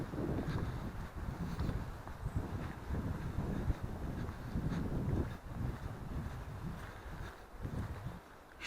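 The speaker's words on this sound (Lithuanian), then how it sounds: "Ir vėjas taip gausiai užeina." Wind gusts through a forest along a walking trail, a steady rushing blow with low buffeting rumble that swells and eases in waves, close and fairly loud, with no voices.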